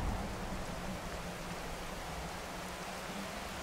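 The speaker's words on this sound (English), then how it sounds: "And now it's raining." Steady, dense rain pours in a video game world, a continuous hiss of falling water with no break.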